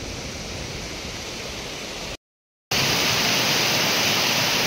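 River water rushing at a dam near a waterfall, a dense continuous roar that cuts out briefly and then returns louder, with no voices.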